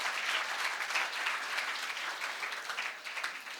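An audience claps warmly after a devotional song performance, a dense and lively burst of applause with slightly uneven swells that stays fairly steady before easing slightly.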